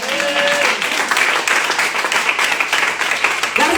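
A church congregation applauds and cheers during a French-language sermon, steady loud clapping from many hands with voices rising through it.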